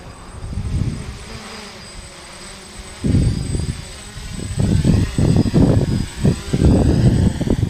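A small quadcopter drone comes down to land. Its rotors drone and buzz close by in uneven surges as the throttle changes, with a quieter stretch early on and steady, loud bursts toward the end.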